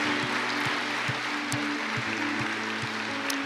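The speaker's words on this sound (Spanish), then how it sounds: "Si va a aplaudir, que sea para el Señor fuerte en esta mañana" A church congregation applauds during a Sunday morning worship service, broad steady clapping over a rhythmic beat with sustained musical tones.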